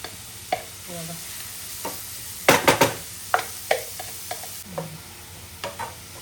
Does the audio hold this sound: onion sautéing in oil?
yes